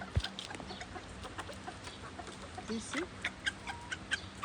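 Local farm chickens and roosters cluck and call in short, irregular bursts at close range, with someone speaking briefly over them.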